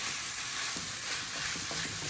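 Food sautés in a pot with salt, a soft continuous sizzle with faint stirring clicks and no talking.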